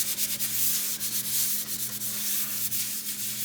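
A sponge loaded with Pink Stuff cleaner rubs lightly over a surface in quick, steady swirling strokes, a soft continuous scrubbing close by with a low steady hum underneath.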